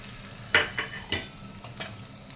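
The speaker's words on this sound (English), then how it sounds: "In the same pan, I am going to add the kismis," Raisins sizzle in the same pan with cashews while a spoon stirs them, giving a few sharp scraping strokes over a soft, steady frying hiss, close and clear, with no voices.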